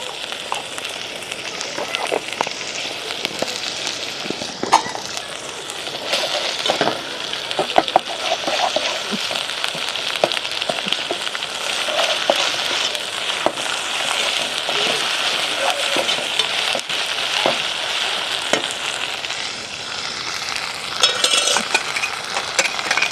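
Goat intestine (boti) frying with ginger garlic paste gives a loud, steady sizzle and crackle that runs throughout, with occasional stirring scrapes in the pan.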